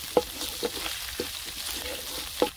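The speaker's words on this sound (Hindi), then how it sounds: "पैन में डालेंगे कुटा हुआ अदरक और लहसुन और इसको हम थोड़ी देर के लिए फ्राई कर लेंगे।" Crushed ginger and garlic fry in oil in a pan, giving a steady sizzle broken by a few soft clinks of stirring at irregular intervals.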